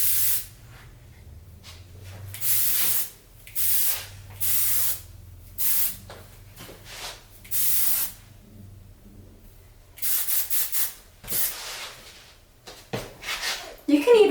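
Hairspray hisses from a can onto short crimped hair in about ten short bursts, sharp and close, separated by pauses, with a voice talking in between.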